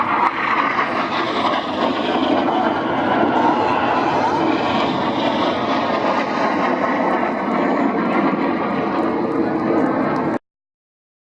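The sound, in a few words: Red Arrows jet flying low at airshow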